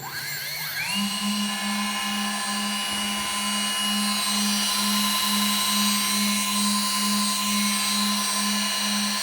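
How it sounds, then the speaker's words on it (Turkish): The battery-powered dive thruster motors of an underwater ROV robot spin up with a quick rising whine, then hold a loud, steady, close electric hum and high whir until the end. "Şimdi batırma motorlarını çalıştıralım."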